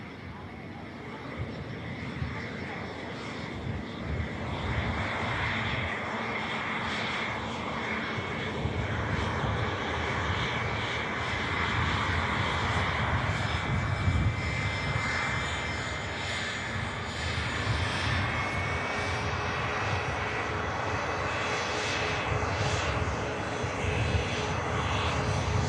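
Canadian Air Force Hercules arriving at an airport, a steady, loud rumble and roar of aircraft engines lasting throughout, with a broad noisy drone and faint background voices.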